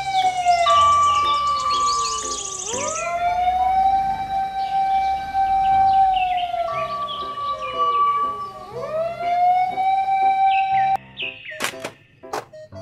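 A toy-like electronic siren wails up and down in repeated swooping cycles, loud and close, with a few clicks at the end.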